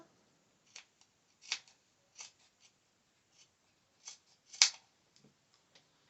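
Scissors snip through elastic band while sewing dancewear, a series of sharp, close, quiet cuts spaced irregularly with near silence between them.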